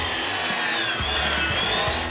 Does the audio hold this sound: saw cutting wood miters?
yes